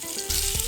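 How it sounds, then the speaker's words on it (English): A sharp burst of sizzling as parboiled potatoes hit hot oil, a loud crackling hiss close up with no talking. "we are going to add in our parboiled potatoes. You need to hear that sizzle."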